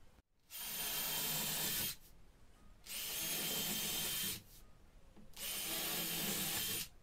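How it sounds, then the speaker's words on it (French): A power drill bores screw holes into wooden boards for a router table frame, three loud sustained bursts of about one and a half seconds each, separated by short quiet pauses, close up with no talking. "puis je perce tous les trous des vis d'assemblage"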